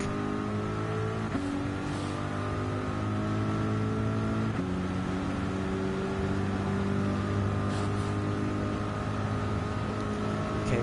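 Ferrari 458 Italia GT3 race car engine in Gran Turismo 7, lapping the Red Bull Ring: a steady tonal drone that climbs through the gears, with sudden pitch drops at each shift and nothing else heard.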